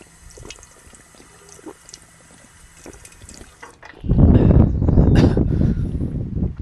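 Water is fetched and drunk: quiet handling noises give way to a loud, close rush of pouring or gulping liquid for the last few seconds.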